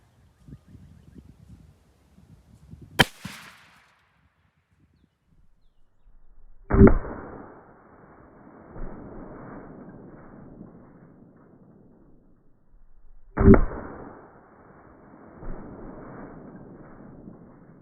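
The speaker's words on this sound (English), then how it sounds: "Today I'm going to be shooting this 30-30 at Ballistic Gel at 200 yards" Three loud, sharp rifle shots from a Marlin 336W lever-action in .30-30 firing Federal Power Shok 150-grain ammunition at a ballistic gel block 200 yards out; each crack is followed by a long rolling echo, with quiet outdoor background between.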